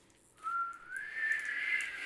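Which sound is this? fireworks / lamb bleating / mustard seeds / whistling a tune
whistling a tune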